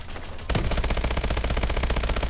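Rapid, sustained automatic machine gun fire from an enemy turret in the shooter game Call of Duty: Advanced Warfare bursts in after a brief lull, loud and dense with continuous rattling shots.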